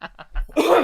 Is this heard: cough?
yes